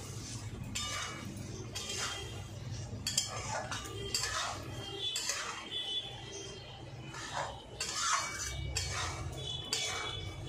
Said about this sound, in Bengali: সব শুধু একসঙ্গে ভালো করে কষিয়ে নেব।